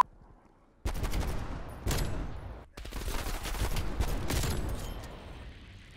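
Dual-wielded magnum shotgun pistols in Black Ops Cold War fire in loud, close bursts of booming blasts, several shots clustered over a few seconds with brief gaps between volleys.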